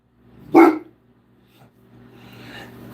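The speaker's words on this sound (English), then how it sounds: "If you're gonna bark" A dog gives one loud, close bark, then falls quiet apart from a faint soft sound and a low indoor hum.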